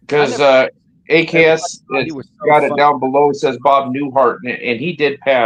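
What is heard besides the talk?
No distinct noise like a dog, phone or traffic.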